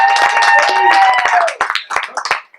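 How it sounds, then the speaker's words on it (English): An audience claps at a boxing press conference for the Garcia vs Guerrero fight, with a burst of dense, close clapping that breaks into scattered claps. Voices and a sustained tone sound over it. "Charles Leverett, a round of applause for Sammy Vasquez."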